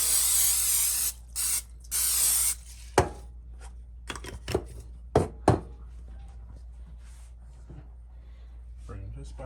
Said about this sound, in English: And I'm gonna use pan, spray the bottom.